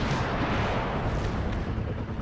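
Heavy, rumbling fire from a Bradley engaging a tank in the wargame WARNO, a dense, continuous roar of distant booms and explosions blending together without pause.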